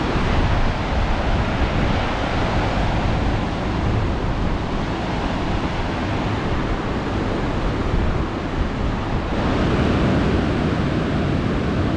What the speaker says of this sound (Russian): У нас тут сегодня везде ветрено.